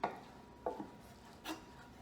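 A knife roughly chopping roasted eggplant flesh on a cutting board for a dip, three soft, uneven thuds spaced apart, faint and close with no talking.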